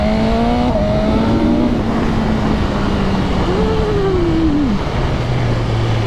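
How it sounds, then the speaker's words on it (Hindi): A superbike with a quick shifter and auto blipper revs hard and loud throughout, its pitch climbing through upshifts before dropping on a blipped downshift, with a constant rushing roar around it. "तो quick shifter auto blipper working so well."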